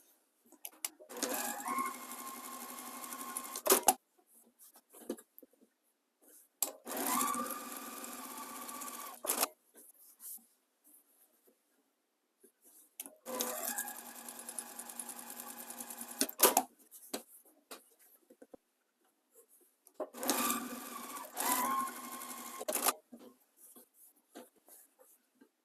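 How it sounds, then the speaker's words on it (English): A sewing machine stitching the seams of quilt rows, running in four distinct bursts of rapid mechanical whirring, each several seconds long, separated by quiet pauses. "let's just start sewing these seams together"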